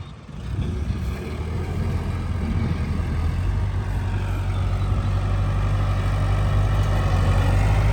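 A Kubota L5018SP tractor engine runs steadily nearby, a low, even diesel drone and hum that holds at constant loudness throughout, with no talk over it.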